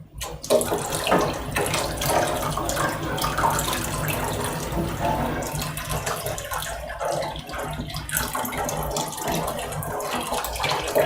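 Water pours steadily into a container holding a mix of glue and alum, about two liters in all, making a continuous close rushing splash with no talking.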